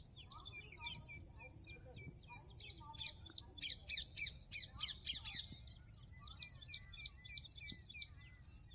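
Flock of sparrows feeding on ragi and pearl millet in a field, giving rapid bursts of sharp chirps and squawks close by over a continuous insect drone and low background rumble.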